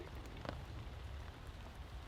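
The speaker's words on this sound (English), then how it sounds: "the rain's slowed down now" Rain falls on a camp with a steady, dense patter of drops on surfaces and a few sharper nearby taps, continuous and alone without voices.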